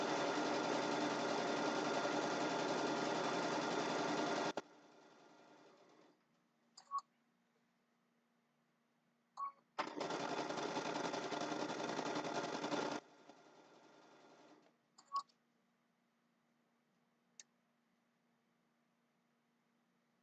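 A home sewing machine sews quilt borders in two loud, steady bursts of several seconds each, with short clicks and pauses between them in a quiet room.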